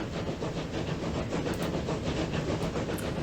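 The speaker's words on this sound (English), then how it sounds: "look, the train's already here" A train in Transport Fever 2 pulls into the station to deliver bricks, making a steady, close rumble with hissing steam and a faint rhythmic clatter from the wheels, and no voices over it.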